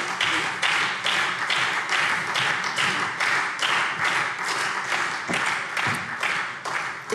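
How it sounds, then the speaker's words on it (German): Applause from a parliamentary plenary session, a dense, steady clapping from many hands that fills the chamber throughout, with no speech over it. "Applaus"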